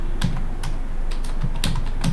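Calculator keys pressed in a quick run of light plastic clicks, about six or seven taps close up over a steady background hum.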